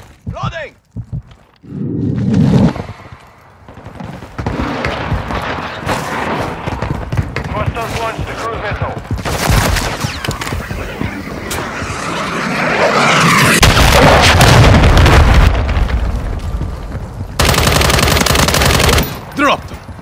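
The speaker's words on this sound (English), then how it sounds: "Taking effective fire!" Loud, close machine-gun fire in Call of Duty, with long rattling bursts and booming impacts that intensify toward the middle. Footsteps and brief voice callouts are mixed in between the volleys.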